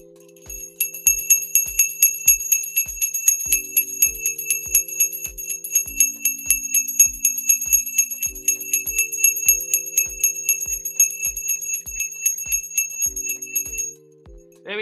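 A bell rings over and over in a steady, rapid series of bright metallic strikes, about fourteen seconds long, marking the opening of a livestream. It is close and clear, with no talking over it.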